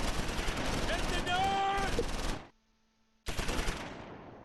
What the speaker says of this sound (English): Bazooka, they're shooting at Tiny